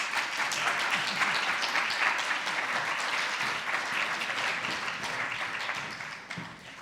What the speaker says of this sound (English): Do you want to give them a round of applause?